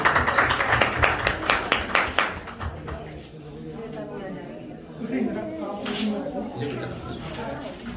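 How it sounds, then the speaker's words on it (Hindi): Guests at a retirement party in India clap in a quick burst of applause at the start that fades after a few seconds, followed by a voice talking over the room. "कृपया कर तालियों से स्वागत करें सारे लोग"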